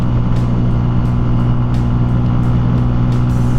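A 2018 Benelli TNT 135 motorcycle riding at a steady speed, with a loud continuous engine drone and rushing wind, close and unbroken.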